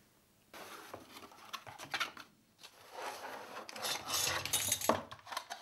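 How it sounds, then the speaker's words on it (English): A hard drive is slowly rocked back and forth to work it free from the circuit board of an external enclosure, giving close, quiet scraping and rubbing in several short bursts with brief pauses between. "it's possible to slowly jiggle the drive back and forward to slowly remove it from the circuit board"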